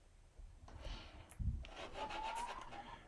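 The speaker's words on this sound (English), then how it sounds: "just taking the bow and roughing up the handle for a glue-on" A wooden bow handle is roughed up for a glue-on grip, a short dry rasping rub with one heavier scrape midway, close and fairly quiet with no talk.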